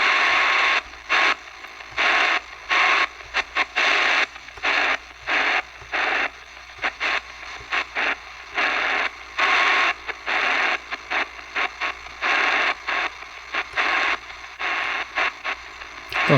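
A Baijiali BJL-201 radio sweeps through the shortwave band, hissing static chopping on and off in rapid bursts with faint whistles between them, steady and unaccompanied.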